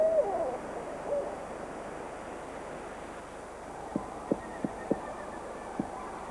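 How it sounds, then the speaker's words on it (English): A male barred owl hoots to claim its territory in the woods, a short series of deep, evenly spaced hoots at moderate distance, faint wind beneath, preceded by a brief rising call at the start. "the owl tries to look and sound as imposing as it can"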